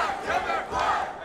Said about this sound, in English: Hear the crowd support for Black Quebecois.